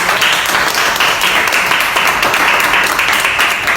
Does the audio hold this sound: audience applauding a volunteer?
yes